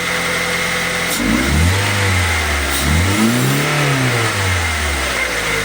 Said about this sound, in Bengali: ইঞ্জিন স্টার্ট হয়ে গেল আর ইঞ্জিনের সাউন্ড খুবই মিষ্টি সাউন্ড